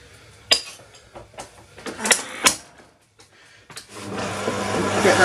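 An electric mixer starts whizzing butter into cake batter after a few clinks and knocks of kitchen utensils, building to a steady close whir by the end.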